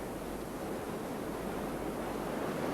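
Turbulent white water roars steadily through a canoe slalom course at Tacen, a constant broadband rush with no breaks, moderately loud and heard from some distance with no voices.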